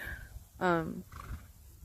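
A short, shaky whinny from a nearby horse cuts through briefly, surrounded by low background rumble and a bit of quiet voice.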